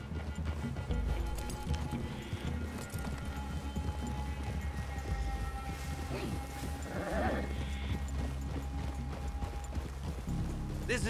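Horse hooves clip-clop at a steady walk in the video game Red Dead Redemption 2, under a dense, busy mix of ambient noise, with soft animal sounds and faint talk.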